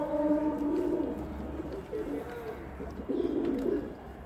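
Domestic pigeons, a male with two females, coo in low repeated throaty phrases, close and moderately loud over a faint steady background hum.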